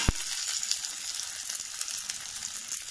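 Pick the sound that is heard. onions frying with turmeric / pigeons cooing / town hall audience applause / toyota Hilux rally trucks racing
onions frying with turmeric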